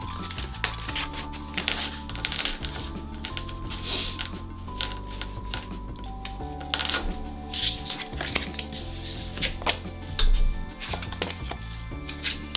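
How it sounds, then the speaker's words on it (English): A slick-coated tarot deck being shuffled and handled, giving a steady run of soft, dense card riffles and taps close up, with no talking. "put the deck back together in no particular order and give them a shuffle"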